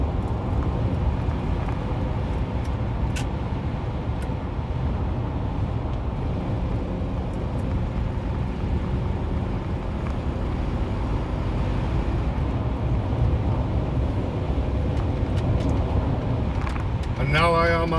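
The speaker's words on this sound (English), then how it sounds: "You don't hear any engine noise, it's just wind noise." Steady wind roar fills the cabin of a Lexus LS 400 with 237,000 kilometers cruising at about 130 km/h on a very windy day, a constant low broadband rush with road hum beneath and no distinct engine note.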